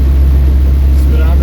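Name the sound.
electric-converted 1976 MG Midget driving at top speed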